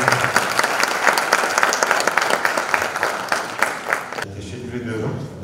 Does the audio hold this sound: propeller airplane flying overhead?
no